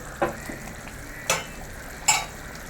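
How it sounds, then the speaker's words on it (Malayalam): A thick fenugreek fish curry gravy in a Kerala kitchen simmers with a low bubbling hiss, broken by three short bright clatters as pieces of fish go into the pan. "നമ്മുടെ മീൻകറിയുടെ ഗ്രേവി ഇവിടെ നല്ലപോലെ തിളച്ച് കുറുകി വന്നിട്ടുണ്ട്"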